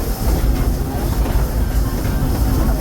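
A Disneyland Railroad train rolls along its track with a loud, steady rumble and a rhythmic clatter from the wheels, close and continuous, with no talk over it.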